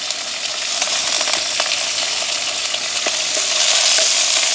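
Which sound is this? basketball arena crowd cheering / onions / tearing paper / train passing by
onions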